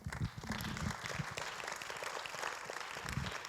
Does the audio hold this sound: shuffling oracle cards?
no